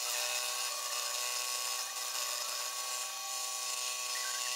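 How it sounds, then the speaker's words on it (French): Scroll saw fitted with a fine blade cutting through 1 cm thick oak, a steady continuous buzzing rasp held at an even level from start to finish, close and alone with no voices. "Je remets une lame fine et je m'attaque à du bois nettement plus dur. C'est du chêne."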